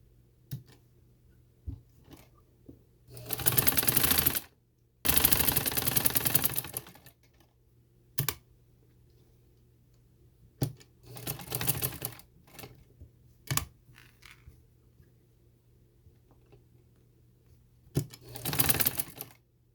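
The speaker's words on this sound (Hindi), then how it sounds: "अब हम इस तरफ से सिलाई लगाएंगे।" A sewing machine stitches fabric for a neck design in several short, rapid bursts of chattering needle action, separated by quiet pauses and occasional small clicks.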